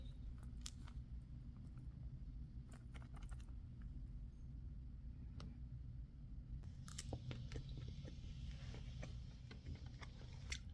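Faint, close biting and chewing of beef from a street food cart, with soft wet crunches and smacks repeating irregularly.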